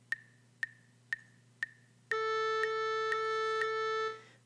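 Quarter notes at a brisk 120 beats per minute: four short, evenly spaced pitched tones half a second apart, then four sustained note attacks at the same pulse, clean and isolated with no voices.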